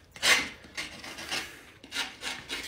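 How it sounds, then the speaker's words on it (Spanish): Burrs are scraped off the edges of a plaster mold piece for interior 3D textures, making rhythmic dry rasping strokes, about six close, soft passes. "empezamos a limpiar todas las orillas de la poca de rebaba que le salió"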